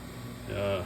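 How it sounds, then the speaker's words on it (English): A freeze dryer runs in the background as a steady low mechanical hum with a faint hiss, swelling slightly toward the end. "You can hear the freeze dryer in the background."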